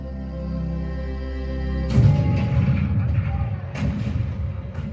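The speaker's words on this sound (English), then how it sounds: "The cannon spoke for war." Cannon fire sound effect in a Disneyland Lincoln show, deep booming blasts over a sustained orchestral tone, with two or three heavy thuds a couple of seconds apart.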